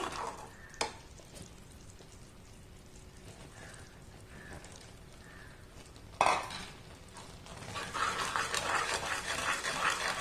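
Grated coconut is stirred into melted sugar in a pot for coconut burfi: a soft, even bubbling hiss, with occasional spoon clinks against the metal and a thicker, louder scraping sizzle toward the end.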